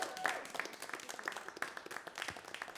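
Applause at a French-language awards ceremony for creative agencies from Mauritius, a fairly faint, scattered crowd clapping with irregular bursts of hands and a soft room background.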